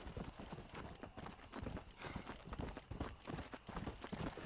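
A horse in the Red Dead Redemption video game gallops with rapid, rhythmic hoofbeats that continue steadily and close up, fairly quiet, with no talking over them.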